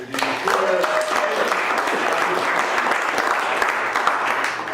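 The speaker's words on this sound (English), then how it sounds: "Maybe just a round of applause." Steady, dense applause from an audience at an evening talk on engaging with buyers, welcoming the guest speaker; loud and sustained for the whole stretch, with a brief tonal murmur near the start.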